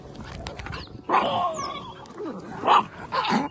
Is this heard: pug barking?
yes